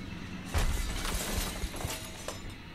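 Glass shattering as a soldier smashes through a window in the XCOM video game: one sharp crash followed by a brief spray of breaking glass, moderately loud, no talk.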